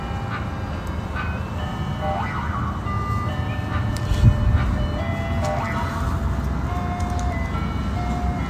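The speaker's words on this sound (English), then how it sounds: "that ice cream truck music starts blasting" Tinny ice cream truck jingle inside a Roblox game, a thin repeating melody sitting over a dense, steady rumbling noise bed, moderately loud and continuous for the whole stretch.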